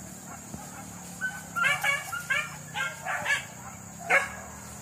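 Hunting dogs bark during a wild boar hunt in Palangki, Sijunjung, a series of sharp, mid-distance barks and yips in irregular bursts over steady outdoor insect hiss, with no talk.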